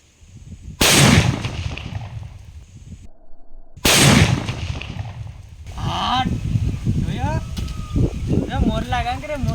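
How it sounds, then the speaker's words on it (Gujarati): A homemade firecracker bomb bursts twice outdoors with sharp, loud blasts that ring and decay, followed by people talking and exclaiming. "તો મિત્રો આપણે હવે ટેસ્ટિંગ કરી નાખીએ VIP બોમ્બની."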